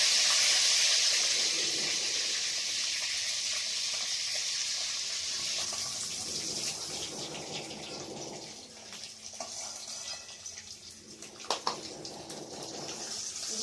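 An egg frying lightly in a pan gives a steady, close hiss and sizzle that fades a little over time, with faint scattered crackles and a few sharper pops near the end.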